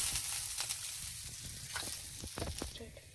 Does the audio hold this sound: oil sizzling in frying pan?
yes